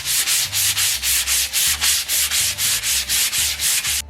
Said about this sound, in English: To knock down any grain raise, we're going to use sandpaper 220 grit or finer.